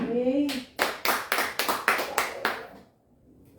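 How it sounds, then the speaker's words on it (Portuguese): A church congregation gives about eight rhythmic, evenly spaced claps in unison, loud and close. The claps follow a brief voice at the start and end in near silence. "Aplauda ao Senhor."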